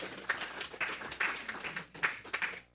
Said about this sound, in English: They're clapping for you, Jesus.